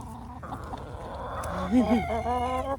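Chickens cluck nearby while a rooster lets out a short crow in a garden, close and fairly loud against a soft background hum.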